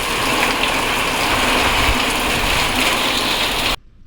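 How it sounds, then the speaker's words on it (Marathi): Heavy rain at the onset of a downpour roars outdoors as a loud, dense, even wash of falling water, then cuts off abruptly near the end. "आणि आता पावसाची जोरदार सुरुवात झाली"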